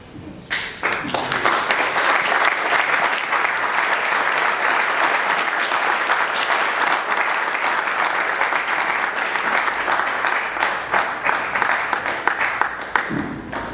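A contest audience at the Tshimbadi 2025 competition bursts into loud, dense applause and cheering that runs unbroken for over ten seconds, close and full, then cuts off abruptly.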